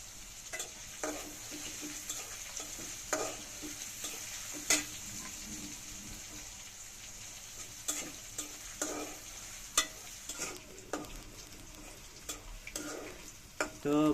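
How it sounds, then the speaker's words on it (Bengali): Onions fry in a wok on a clay stove, a quiet sizzle under repeated scraping stirs and sharp clicks of a spatula against the pan, spaced irregularly and heard close. "এই যে পেঁয়াজটা লাল করে ভাইজা নিতেছে"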